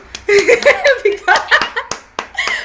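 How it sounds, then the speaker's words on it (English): A few sharp hand claps land between bursts of lively voices and laughter during a business pitch session, close and uneven in rhythm. "can I clap for you?"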